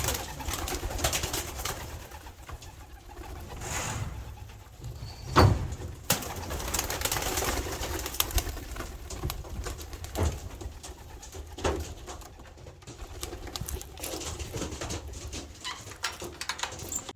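Young and old pigeons in a loft, low cooing mixed with bursts of wing flapping and clatter as the flock takes off, busy and close, with scattered thumps and no speech.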